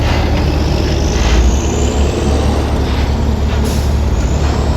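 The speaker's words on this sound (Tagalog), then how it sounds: "And laki ng mga truck oh." Large trucks rolling past a construction site, heavy continuous engine rumble and road roar close by, with a sharp air-brake hiss toward the end.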